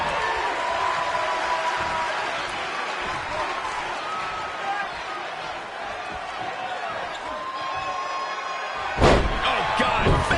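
WWE 2K20 wrestling game on PS4: crowd noise and commentary run throughout, then a sharp, heavy body-slam impact cracks near the end over the crowd.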